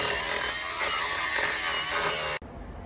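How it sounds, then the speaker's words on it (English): Angle grinder cutting off bolts on bearings, a loud continuous high whine with gritty cutting noise that holds steady and then stops abruptly, leaving quieter background. "so we're putting them off with the grinder"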